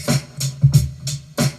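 A short boom bap drum loop with no lo-fi filter, crisp and bright: deep kicks and snappy snares alternating in a quick, clean pattern, loud and close.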